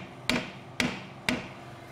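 Three evenly spaced metallic hammer taps ring out close by as a bolt is driven out of a Land Rover Freelander's rear suspension, each a sharp clink with a short decay.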